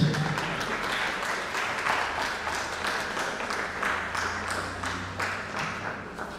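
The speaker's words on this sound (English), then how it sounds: "Let's sustain the applause" Audience applause at the close of a talk on human-centered AI for gender equity, a sustained crowd of clapping with individual claps standing out, gradually easing toward the end.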